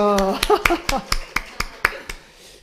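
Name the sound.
congregation clapping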